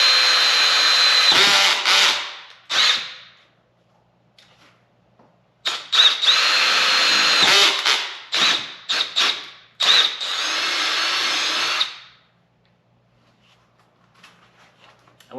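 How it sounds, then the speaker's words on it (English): A power drill with a 1/2-inch bit bores holes through a JL Jeep Wrangler tailgate for a Mopar tailgate table install, whining loudly in a series of bursts of varying length with short quiet pauses between them. "So we're just going to drill those out."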